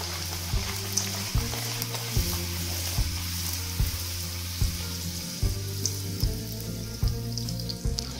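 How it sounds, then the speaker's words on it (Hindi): Bhatura dough frying in very hot oil, a steady close crackling sizzle broken by regular soft knocks from a ladle pressing it down about once per second. "तो अब हम तेल में भटूरा डालेंगे"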